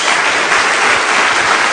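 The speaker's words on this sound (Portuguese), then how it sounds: "Dê uma salva de palmas a Jesus." Congregation applause during a church sermon, loud, dense and continuous clapping filling the whole short stretch without letup.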